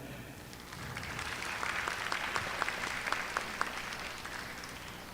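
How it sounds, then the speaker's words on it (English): Applause at a sports hall of fame gala for the presidential ambassadors, a steady wash of many hands clapping with scattered sharper claps, moderately distant and sustained throughout. "we like to give a round, warm applause for them"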